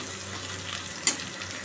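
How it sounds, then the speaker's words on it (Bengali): Whole cumin seeds frying in hot oil for a tempering, a steady close hiss with a brief sharp crackle partway through. "গোটা জিরে ফোড়ন দিয়ে দিলাম"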